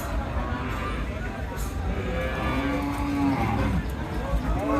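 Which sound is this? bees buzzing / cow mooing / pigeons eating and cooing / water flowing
cow mooing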